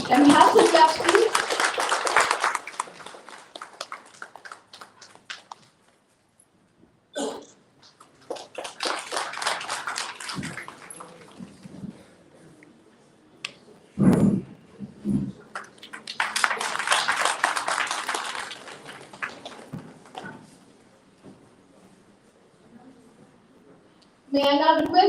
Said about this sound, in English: Can we have some claps, please?